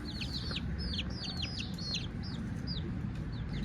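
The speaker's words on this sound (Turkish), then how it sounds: "Bunlar rakkas tavuğu" Rakkas breed chickens cluck and chirp in quick repeated calls over a steady low background rumble, fairly close and continuous.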